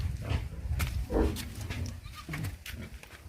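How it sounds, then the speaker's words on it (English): Goats on a farm calling in short bleats and cries, with other livestock nearby, over a steady rustle of farmyard noise. "I'm going to show you the goats."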